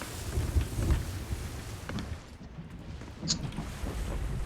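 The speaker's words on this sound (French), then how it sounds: "Oh non, on retourne dans la tempête, noire." A stormy sea in the pirate game Sea of Thieves: steady wind roar and crashing water rumble with occasional creaks, continuous and dense, no clear talk.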